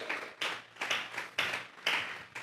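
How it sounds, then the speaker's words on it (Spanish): A church congregation claps in rhythmic bursts during a Spanish-language Sunday service, offering applause to God; about six sharp, roomy waves of clapping arrive roughly every half second, fairly close and without talk. "Vamos a regalarle ofrenda de palmas al Dios de la gloria."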